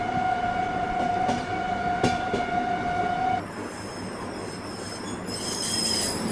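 The Rajdhani Express pulls out of Kota junction in Rajasthan with loud, sustained wheel squeals and metallic rail screeching. A sharp clank comes midway, then a higher, wavering squeal rises toward the end.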